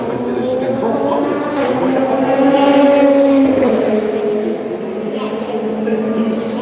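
Race car at the Le Mans 24 Hours qualifying session taking the chicane hard, a loud sustained engine note with shifting pitch that swells mid-pass and fades, under French commentary.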